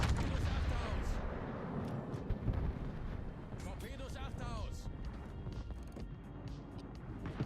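Battleship secondary guns firing in World of Warships, heard as a dense run of rumbling booms and blasts that carry on under someone talking throughout.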